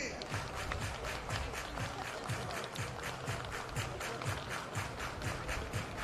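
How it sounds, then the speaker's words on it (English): Baseball stadium crowd clapping in unison at an Australian Baseball League game, a steady rhythmic beat of many hands repeating roughly three times a second, fairly distant and spread across the stands. "Everybody clap your hands."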